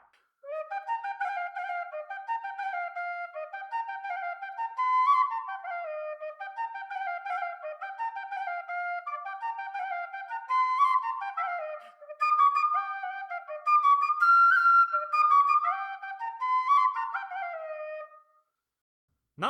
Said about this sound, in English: Not bad for a handmade whistle.